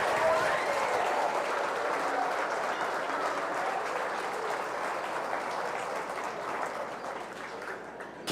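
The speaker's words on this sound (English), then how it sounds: "we're going to make as much noise and cheer for these kids as possible" A crowd at a 4-H fair beef show applauds and cheers loudly and continuously for the young exhibitors, a dense wash of clapping that stays strong and slowly eases near the end.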